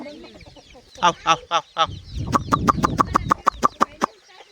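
Free-range country chickens and chicks on a farm, with a few soft clucks followed by a rapid, evenly spaced run of loud clucking calls nearby.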